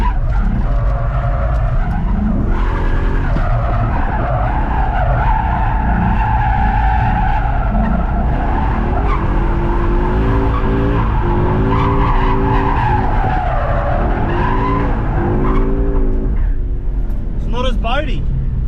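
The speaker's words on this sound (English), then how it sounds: "It definitely doesn't like the old drifting." A Ford Mustang drift car at Archerfield drift park in Australia, its tyres squealing and skidding in long sustained slides over a loud, revving engine. The noise stays steady for the whole stretch and someone talks over it.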